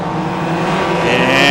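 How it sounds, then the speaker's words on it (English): Midget race cars at a speedway rev their engines in a rising, buzzing roar that builds and grows louder over a short stretch, close and loud, with no talk. "revving up those engines coming off at turn number 4"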